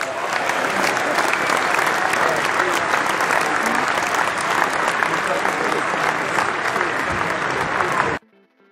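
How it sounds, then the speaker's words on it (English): Stock applause and cheering effect from a paid library: a dense, steady crowd clapping with whoops at full level throughout, cutting off abruptly near the end. "applause, right? People cheering and everything"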